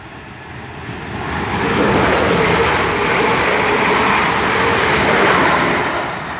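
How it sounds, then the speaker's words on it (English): A South Western Railway train bound for Poole passing through Beaulieu Road station, a loud steady rushing roar of wheels and air that swells after the first second and stays strong throughout. "passing through now is a South Western Railway service to Poole"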